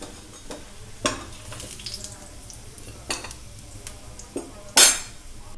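Millet vegetable cutlets are turned over one by one in a hot frying pan, each flip bringing a short clink of a spatula against the pan over a steady low sizzle, with the loudest scrape near the end.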